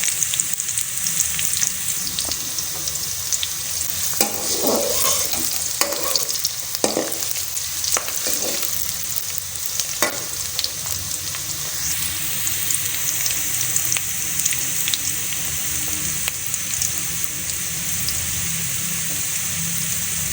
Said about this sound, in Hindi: यहाँ हमारा प्याज जो है वो ब्राउन हो रहा है।